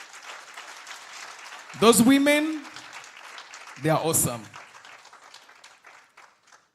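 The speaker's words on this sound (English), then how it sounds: "let's clap our hands" Applause from a symposium audience on climate justice, steady clapping heard under and between a speaker's amplified voice, with brief vocal bursts as people respond.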